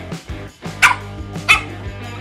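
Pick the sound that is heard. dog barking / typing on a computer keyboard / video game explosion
dog barking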